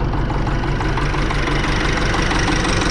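A farm tractor used for harrowing sits idling close by, its engine giving a loud, steady low rumble with a faint knocking pulse and no voices over it.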